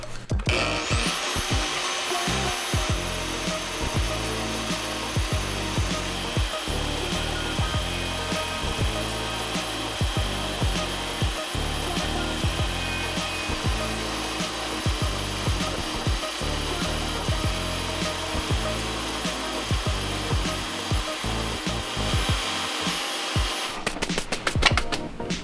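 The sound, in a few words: bandsaw trimming down a part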